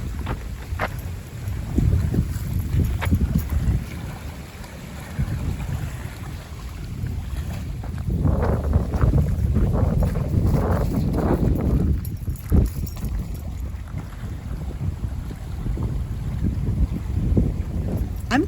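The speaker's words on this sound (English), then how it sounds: "if you can hear it over all this wind" Strong gusty wind on a coastal trail at Bluff Point State Park, Connecticut, buffets the microphone in a low, rumbling roar that swells and eases, with the nearby ocean faintly beneath.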